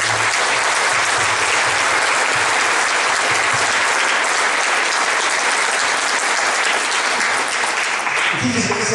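Loud, sustained applause from a church congregation fills the space, a steady wash of clapping with a voice surfacing faintly near the end.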